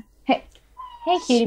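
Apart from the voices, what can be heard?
cat meowing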